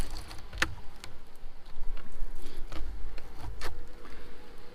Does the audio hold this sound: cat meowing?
no